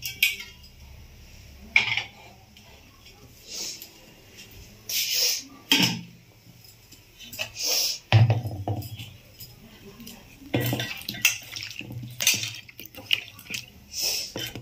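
A cooking pot and rice being handled while rice is put on to cook: scattered clinks, taps and knocks of metal and grains, with splashes of water in between, close by and irregular, and occasional soft speech.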